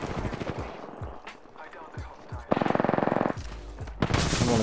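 Rapid automatic gunfire in a video game, loud bursts of machine-gun fire with a sustained rattling volley in the middle and heavy shots at the end, close and dominant.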